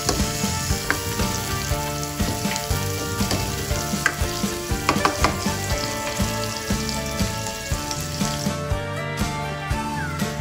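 White onion fries in a hot pan with a steady, crackling sizzle and occasional scraping stirs, close and fairly loud throughout with no talking.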